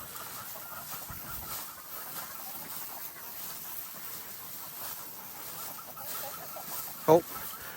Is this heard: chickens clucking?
yes